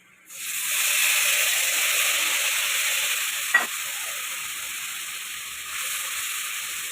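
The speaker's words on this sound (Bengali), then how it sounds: "এবার আমি মশলা দিয়ে দেবো।" Spice paste of ginger, garlic, tomato, cumin and chilli hits a pan of frying boal fish. A loud, sudden sizzle becomes a steady, close hiss, with one brief knock partway through and no talking.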